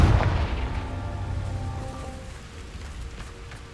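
Blasting curse explosion in a Harry Potter video game: a loud booming blast at the start, then a long rumbling, crackling decay that fades out steadily with no talk.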